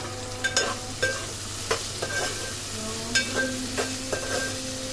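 Green chillies and onion frying in a pan with salt, a steady close sizzle broken by regular clinking spatula strokes against the pan.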